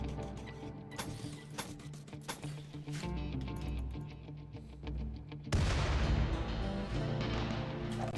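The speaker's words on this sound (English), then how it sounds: "I didn't see what caused that explosion" Explosions and combat in the colony-building video game RimWorld, with a turret destroyed: a busy, dense stretch of thuds and bursts, then a loud broadband blast near the end that keeps rumbling to the finish.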